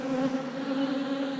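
Bees swarm around an open beehive, their dense, steady buzzing close and continuous with no talk over it.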